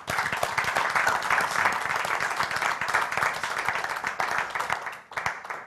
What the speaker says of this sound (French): ce soir, je vous demande d'applaudir comme il se doit notre invité d'honneur qui est Jean-Luc Beaugraville.